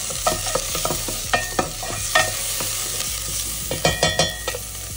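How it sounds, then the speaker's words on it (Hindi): Onion and cumin seeds fry in a pan, giving a steady close sizzle broken by repeated scraping stirs and clicks from a spoon against the pan, with no talking. "इसमें डाल दिया मैंने प्याज, नेक्स्ट इसके अंदर मैं डालूंगी मेरा जीरा"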